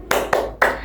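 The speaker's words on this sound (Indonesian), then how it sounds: "Coba ibu mau kalian tepuk semangat." A classroom of students doing the rhythmic 'tepuk semangat' clap during a teaching practice lesson: three sharp, evenly spaced group claps ringing out clearly, with brief gaps of room sound between them.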